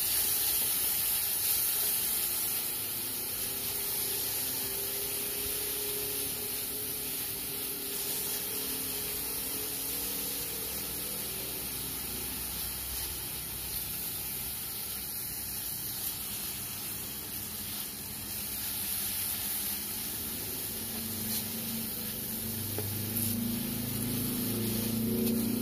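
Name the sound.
garlic and shallots sautéing in a pan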